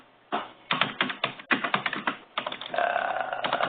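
Typing on a computer keyboard: crisp, close keystrokes arrive in short uneven runs, then a faster steady flurry, heard alone without talk.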